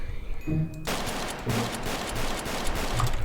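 Rapid gunfire from a gun in the Roblox Wild West game, a burst of repeated sharp shots cracking in quick succession, loud and close, continuing over several seconds.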